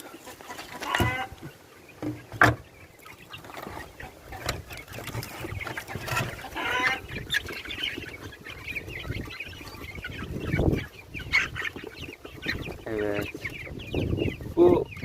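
Chickens, including a Turkish kurt breed hen, cluck and call repeatedly around the coop, with occasional louder squawks and some farmyard bustle throughout.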